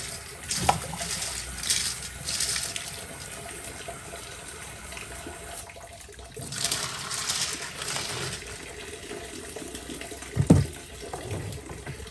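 Tap water runs steadily into a sink draining to a bucket, a broad continuous wash with a few louder splashes, used for rinsing slurry while tumbling lemon quartz.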